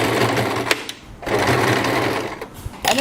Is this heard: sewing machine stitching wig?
yes